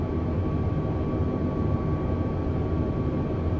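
Steady, loud airliner engine roar of an Airbus A320 on final approach to a short runway in a flight simulator, a constant broadband drone with a faint tonal whine and no talk.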